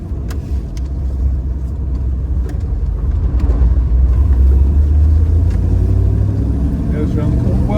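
Manual 1972 Triumph Stag Mk1 3.0 with overdrive driving around a corner, its engine a low, rumbling drone that swells toward the middle as road noise continues, with someone talking over it.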